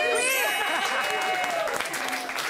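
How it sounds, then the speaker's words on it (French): Studio audience applauding on a French TV entertainment show, a dense steady wash of clapping with some voices and a bit of laughter mixed in, sustained throughout. "Bravo, on peut l'applaudir"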